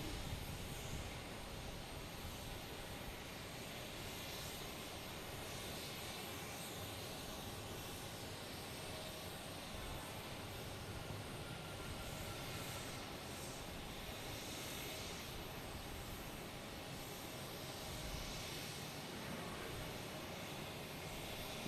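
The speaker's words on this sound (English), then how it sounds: "We have Alaskan taking off. 737, MAX 9." An Alaska Airlines Boeing 737 MAX 9 jet taking off from Logan Airport, a steady, distant broadband engine roar that holds evenly throughout with no voices.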